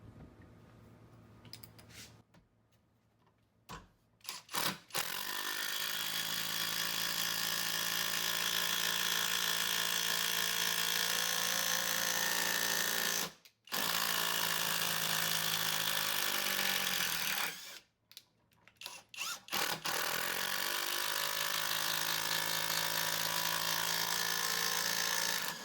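A Festool TID 18 or Skil PWRCore 12V cordless impact driver with a Torx 25 bit drives a 4-inch screw in long, loud bursts of rapid hammering impacts, stopping twice with short pauses before the screw strips out.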